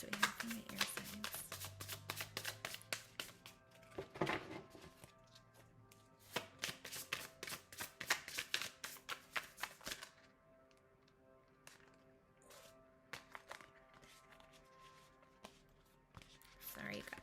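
Tarot cards are shuffled by hand in dense bursts of crisp riffling and tapping clicks, pausing and resuming, close and fairly quiet.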